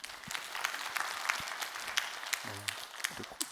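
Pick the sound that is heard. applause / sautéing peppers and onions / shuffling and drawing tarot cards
applause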